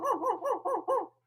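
A man imitates a dog with his voice, giving five quick, evenly spaced barking yelps in a row, close and fairly loud, then stopping.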